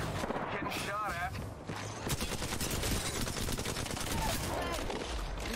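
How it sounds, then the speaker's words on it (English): Apex Legends gunfire rattles in dense, rapid bursts throughout, loud and continuous, with voices talking over the shooting. "Getting shot at."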